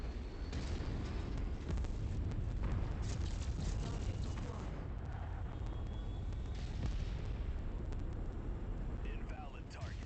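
In the MechWarrior 5: Mercenaries game, a VTOL attacks and sets off dense, booming explosions and rumbling gunfire that continue throughout, with voices speaking over the blasts.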